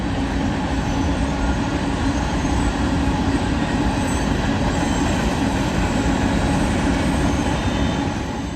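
A Union Pacific trash train rolls past on the Condon Branch, a close, loud and unbroken rumble of freight cars with faint wheel squeal riding over the steady roar.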